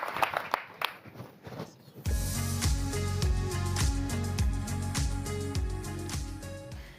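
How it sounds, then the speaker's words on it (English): Audience applause at an Earthshot Prize event with Bloomberg Philanthropies, starting as scattered clapping and then swelling into a steady, loud round from a large crowd that continues to the end. "A very warm round of applause."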